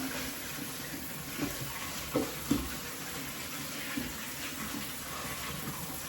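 Cherries are rinsed under a running kitchen tap, giving a steady, soft hiss of flowing water with a few faint splashes and knocks as the fruit is handled.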